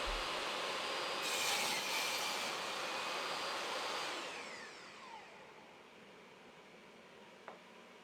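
A table saw with a cross-cut sled cuts through scrap wood, giving a faint, steady whirring cut that fades out as the blade spins down, with a small knock near the end.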